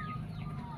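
Free-range village chickens clucking at feeding time, a brief soft burst of close, low clucks over a steady background.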